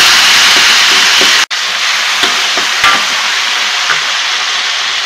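Garlic oil sizzling loudly in a hot wok as sweet soy sauce goes in and is stir-fried, a steady close hiss with a brief break and light scraping stirs.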